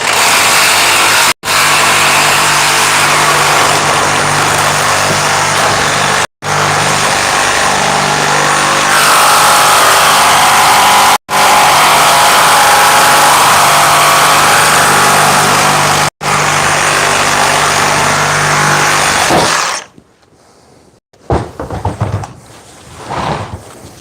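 Reciprocating saws in a showdown between a DeWalt 60 volt, a Milwaukee Super Sawzall and a FLEX 24 volt cut with a loud, continuous buzzing roar. Several brief gaps break the sound before it stops and quieter clatter follows.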